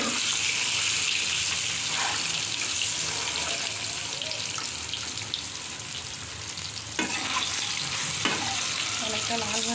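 Eggs frying in a pan give a steady, loud, dense sizzle that holds throughout, with a couple of brief scraping clicks near the end.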